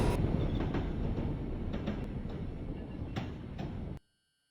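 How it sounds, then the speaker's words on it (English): An R142 New York subway train rumbles loudly into a station on the Uptown local line, with a steady roar and scattered wheel clacks and squeals that stop abruptly. "There is an Uptown local train approaching the station."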